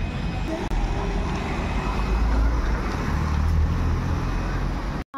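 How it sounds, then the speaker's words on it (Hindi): Dense traffic at a busy crossroads in India, a steady close roar of cars, buses and trucks rolling through without a break, with low engine rumble swelling and easing throughout. "गाड़ी पे गाड़ी, गाड़ी पे गाड़ी।"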